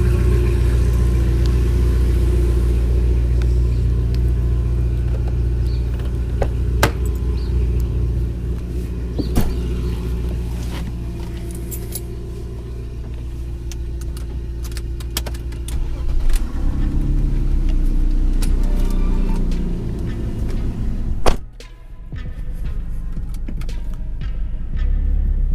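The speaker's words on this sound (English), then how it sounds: "If you hear the sound of glorious M60 V8, it's because Julian and I are out on a black BMW colored adventure." A BMW M60 V8 rumbling along on a drive, a steady deep engine drone that swells and eases with throttle, ending in a sharp thump and a drop to near quiet, no talking.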